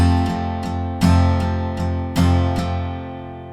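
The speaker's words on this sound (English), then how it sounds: "So notice when I accent, I play those strums a little harder." An acoustic guitar strums eight down strums on a chord, evenly paced, with the first, fourth and seventh played harder so those accents stand out, close and clear with no talking.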